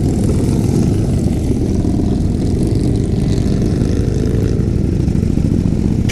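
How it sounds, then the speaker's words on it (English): A 2018 Indian Roadmaster motorcycle's engine pulls with a steady, loud, low thumping exhaust drone that holds without a break, with no one talking. "The exhaust note's nice. It's got a bit of a thump to it."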